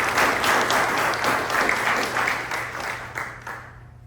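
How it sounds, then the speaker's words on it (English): Sustained audience applause in a lecture hall after a talk on separation of powers, a dense wash of clapping from many hands that stays loud before tapering off at the end. "a round of applause"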